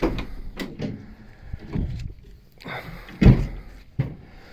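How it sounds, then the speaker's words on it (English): The sliding door of a VW Crafter campervan rolls shut and lands with a close, solid thunk. Softer rumbles and handling noises come before and after it. "So sliding door coming back."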